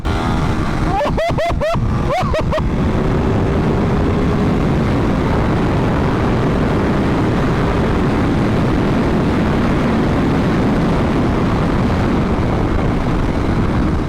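A KTM 1390 Super Duke R motorcycle accelerates hard on a race track, a loud sustained engine roar with wind rush after a brief burst of gear shifts near the start.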